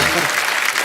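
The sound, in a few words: studio audience applause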